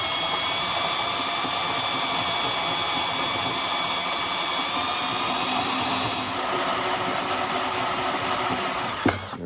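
Power drill with a step bit boring a hole in aluminum, a loud steady whine with high metallic tones holding throughout, briefly shifting pitch as the bit steps up, ending with a short catch near the end.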